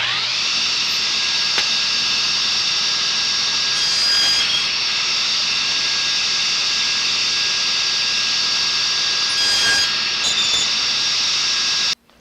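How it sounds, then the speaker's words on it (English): A power saw cuts strips from a 3/4-inch-thick 2x4 in a workshop, giving a loud, continuous high whine that holds steady for about twelve seconds before stopping abruptly. "I'm going to cut 2 4-inch strips out of it"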